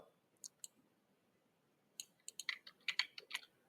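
Key clicks on a computer keyboard at close range, two isolated taps followed by a quicker burst of typing, quiet against a soft background hiss.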